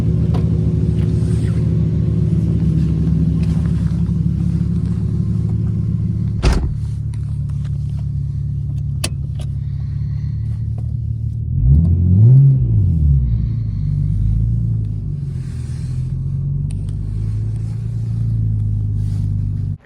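Nissan Skyline cars idle and move out of a shop with a low, steady engine rumble, a couple of sharp knocks, and a brief rev that swells around the middle before settling back.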